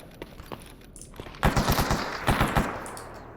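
Automatic gunfire in the video game Stalker Anomaly, with scattered shots and then two tight bursts of rapid, loud rounds, close by, over a faint background ambience without talking.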